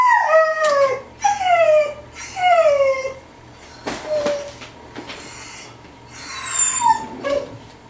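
Close by, a dog gives a string of drawn-out, wavering whines that approach a howl, broken by a few sharp knocks and rustles.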